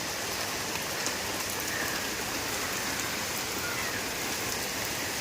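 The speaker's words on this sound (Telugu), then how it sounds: "వాన అయితే పడుతోంది" Steady rain falls and patters on surfaces, a dense, even hiss with no voices.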